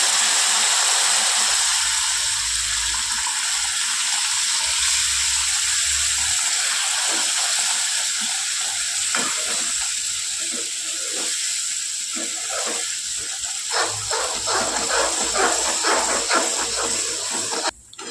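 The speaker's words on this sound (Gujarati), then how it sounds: "હવે આપણે જે ગરમ કરેલું જે પાણી છે ને એ આપણે એડ કરવાનું છે" Hot water poured into roasted amaranth flour gives a loud, continuous steamy hiss and sizzle with rapid crackling bursts that carry on steadily for a long stretch, with no talk.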